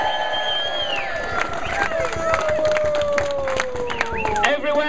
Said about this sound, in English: Give yourselves a huge cheer.